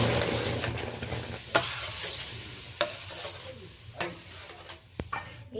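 Palm fruit pulp is stirred in a hot wok, giving a soft low sizzle with occasional sharp scrapes and taps of a spatula on metal, close but fairly quiet.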